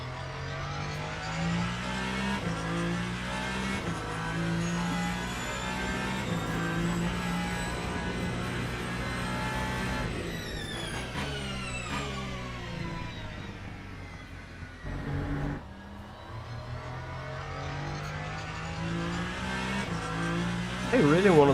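A race car in Le Mans Ultimate revs and accelerates with a steady droning engine note that rises and shifts through gears, heard continuously over about twenty seconds with a brief dip near the middle.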